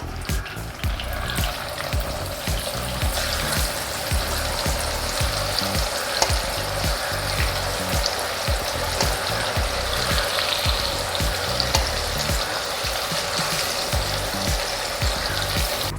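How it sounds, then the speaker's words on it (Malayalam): Half-fried chicken pieces sizzle steadily in hot oil with curry leaves for a Kerala catering-style chicken roast. The frying is a dense, continuous crackle that stays loud and even throughout, with no voices. "ചിക്കൻ മൊത്തം ഫുള്ളങ്ങ് ഫ്രൈ ആക്കിയില്ല പകുതി ഫ്രൈ ആക്കി വെച്ചു ഞാൻ എണ്ണയിലോട്ട്"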